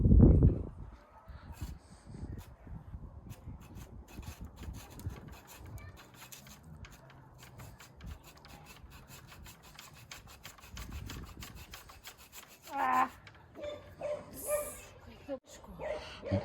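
Steady rasping strokes of a hand saw working through bark and wood of a garden tree in March, close and fairly quiet, with a voice and a few louder knocks near the end.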